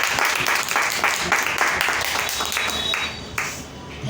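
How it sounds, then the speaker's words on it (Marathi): A church congregation applauds loudly during a Sunday praise and worship service, with many hands clapping in a full, energetic burst that tapers slightly toward the end. "आणि एकदा पुन्हा जोरदार जिवंत देवासाठी पण जोरदार टाळ्या."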